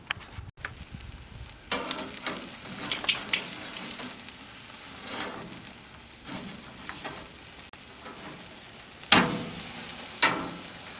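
Steak frying in a pan gives a steady soft sizzle with scattered pops and a few sharper crackles near the end, mid-distance, with no talking.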